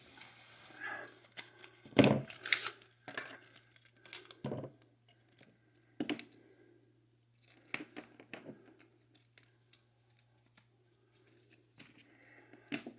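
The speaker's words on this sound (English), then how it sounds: "I'm going to just cut the end of it off with my lineman pliers." Lineman pliers snipping through the end of a short household extension cord, giving a few sharp crunching cuts and handling noises close by, with quiet gaps between them.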